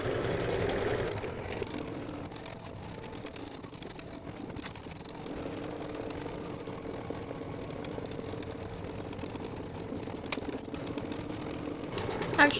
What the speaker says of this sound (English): I don't want to bore you by just watching stitching